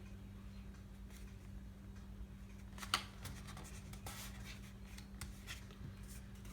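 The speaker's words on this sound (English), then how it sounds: "I'm going to fold this right at that little pencil mark I made" A sheet of paper being folded along a pencil mark, with faint soft creasing and rubbing strokes scattered over low background hum, one slightly sharper crackle standing out near the middle.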